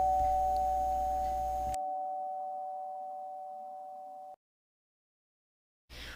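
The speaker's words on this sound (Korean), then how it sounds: "버튼을 누르면 띵동 소리가 나는 초인종을 만들어 보겠습니다" A single electronic ding-dong doorbell chime, played from a sound file in a coding program, rings as a steady pure tone, fading gradually before cutting to silence, then a brief noise returns at the end.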